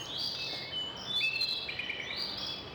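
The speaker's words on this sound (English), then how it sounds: "Do they have birds in the room too? Because they're so loud." Loud, steady bird chirping and tweeting in a Bavarian outdoor scene from the 1995 game The Beast Within: A Gabriel Knight Mystery. Repeated high calls overlap over a faint hiss, with no voices.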